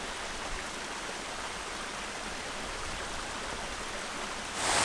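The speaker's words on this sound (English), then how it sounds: "And the first thing we come across is a mini cascade." Mini cascade on the Caerfanell river near Talybont, a steady broadband rush of falling water that holds constant throughout and swells slightly louder at the very end, with no voices.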